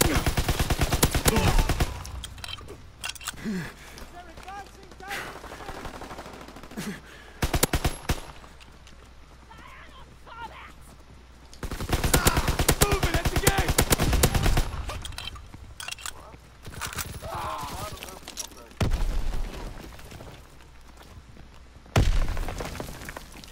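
Gunfire in Call of Duty WW2, with loud bursts of rapid machine-gun fire and single shots returning in clusters, close and punchy, separated by quieter stretches of game noise.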